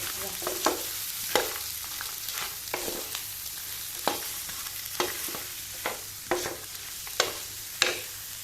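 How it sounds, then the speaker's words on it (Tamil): Fried tofu stirred in a pan with soy, chilli and tomato sauces, a series of scraping spatula strokes at an uneven rhythm over a steady sizzling hiss, close by with no talk. "இப்போ ஃப்ரை பண்ணி வச்சுருக்கோம்ல tofu, அதையும் போட்டுக்கலாம். கொட்டிட்டு நல்லா மிக்ஸ் பண்ணணும்."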